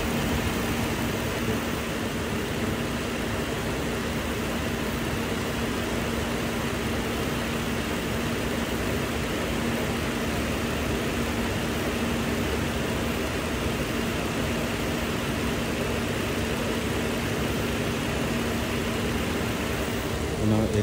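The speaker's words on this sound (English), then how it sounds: "The clutch fan did turn on. I just heard it right now." A 2003 Infiniti G35 engine idling with its clutch fan running, a steady, even hum and whir that holds unchanged throughout, moderately close, with someone talking over it.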